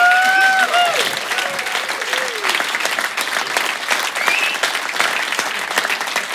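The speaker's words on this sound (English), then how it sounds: "Give him a big round of applause." A live studio audience applauds for a young jazz organ player, loud close clapping with a few whoops and whistles at the start, continuing steadily and tapering slightly.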